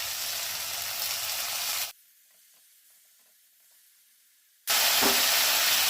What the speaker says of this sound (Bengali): মশলাটা খুব ভালো করে কষিয়ে নিতে হবে, মশলা থেকে যাতে কাঁচা গন্ধটা চলে যায়